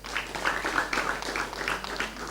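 An audience at a Lagos gubernatorial debate claps for student debate speakers, a moderate, steady patter of applause from a room of people.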